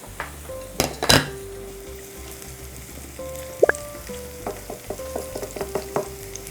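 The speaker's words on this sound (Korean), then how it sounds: "자, 이제 마늘이 이렇게 익기 시작했죠?" Garlic and sliced red chili fry in oil in a pan, a low sizzle running throughout with a few clinks and scrapes of a utensil against the pan, fairly quiet and close.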